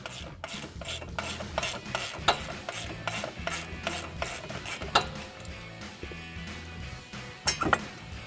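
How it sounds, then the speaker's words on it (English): A hand ratchet removes the last bolt holding a brake caliper on a 2015-2023 Mustang GT front end, giving steady, close, rapid clicking strokes in repeated bursts with occasional metallic knocks. "Now I have my one bolt still in there. I'm going to remove that now"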